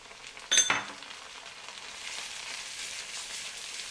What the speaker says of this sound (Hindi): एक मिनट तक हमने अदरक और हरी मिर्चों को फ्राई करना है, 1 से 2 मिनट तक।